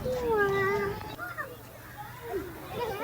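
A cat meows with rising and falling cries at a zoo, calling loudly at first and then again more faintly, with children and other people chattering in the background.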